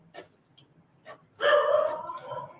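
A dog barks at a window indoors during a live watercolor painting session, giving a couple of short yips followed by a louder, sustained burst of barking close by.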